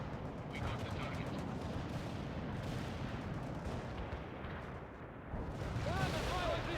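Artillery strikes rumble through a World in Conflict river-crossing battle as a heavy, continuous roar of blasts and gunfire. A whistling burst rises near the end.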